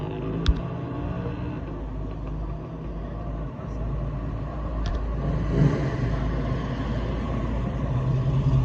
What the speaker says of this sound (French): j'en peux plus des voitures qui passent devant là